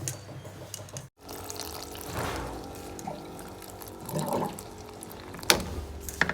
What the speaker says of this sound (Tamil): தண்ணியை வந்து போர் பண்ணிக்கலாம்